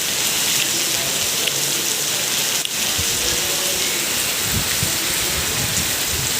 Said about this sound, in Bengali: দেখেন কত প্রচুর পরিমাণে বৃষ্টি হচ্ছে